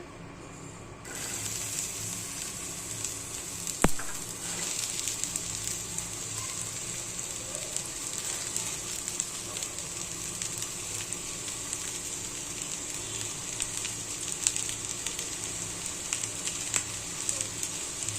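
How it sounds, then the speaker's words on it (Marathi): Onion frying in a pan, cooking until brown, gives a continuous low sizzle with small crackles and one sharp click early on, steady and fairly quiet with no voices. "आता कांदा टाकायचा भाजायला"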